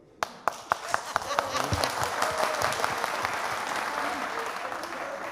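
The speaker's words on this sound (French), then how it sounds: "ils ont applaudi en chœur" Studio audience at a French-language TV show breaking into applause, starting with a few separate sharp claps that quickly swell into dense, sustained group clapping, with voices mixed in.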